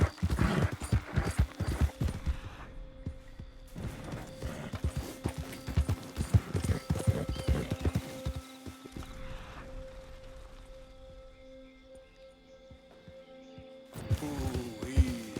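Horse hooves clip-clop in the Red Dead Redemption 2 video game, a quick rhythmic run of hoofbeats that pauses and resumes, with a brief whinny and a quiet stretch in between.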